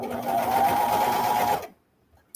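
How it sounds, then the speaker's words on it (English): A serger sews a swimsuit with a steady, fast mechanical whir at close range for about a second and a half, then stops abruptly into silence. "Okay, so I'm using the serger, so this is my first step."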